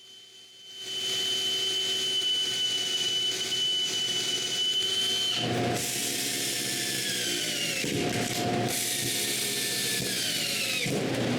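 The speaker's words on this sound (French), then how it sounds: "je mets plusieurs vis pour retenir tout ça en place" A cordless drill drives several screws into glued wood, its motor whining loud and steady from start to finish with brief surges and dips as each screw seats, close to the mic with no talk.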